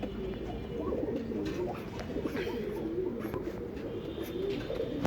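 Racing pigeons coo continuously in a busy loft, a low, dense layer of overlapping bird calls with faint chirps and rustling throughout.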